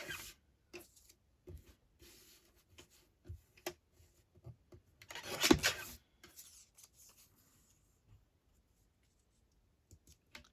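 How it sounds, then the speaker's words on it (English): A paper journal card being trimmed with quiet scissor snips and paper rustles in short scattered bursts, one louder crinkling flurry in the middle, otherwise near silence. "I'm just going to trim this one down a little bit."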